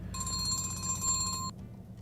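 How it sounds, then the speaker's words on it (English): A telephone rings once in a short electronic trill that cuts off abruptly, close by, with a low hum underneath. "my phone is ringing."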